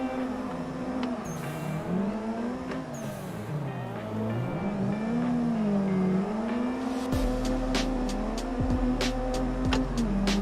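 A drift car in the Assetto Corsa sim, its engine note rising and falling steadily through gear changes and clutch kicks, with tires squealing and sharp clicks near the end; loud and continuous.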